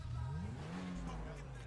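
A car engine in GTA 5 Online drones and revs, its pitch rising and falling, with a low rumble running underneath throughout.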